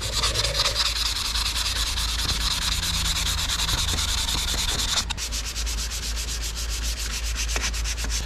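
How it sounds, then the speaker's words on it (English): Steady rhythmic sanding on a painted car hood, a close continuous scratchy rubbing that carries on for about eight seconds with no one talking. "So anyways, let's we're just gonna sand this down."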